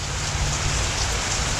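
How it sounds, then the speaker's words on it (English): Moderate rain falling during a storm, a dense steady hiss of drops on surfaces, loud and unbroken throughout with no voices. "It's moderate rain."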